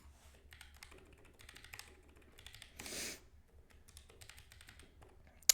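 Someone types on a computer keyboard while programming, in soft, quick bursts of key clicks with short gaps. It is quiet and close, with no talking.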